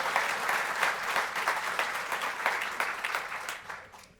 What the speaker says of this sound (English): let's give them a warm round of applause, right?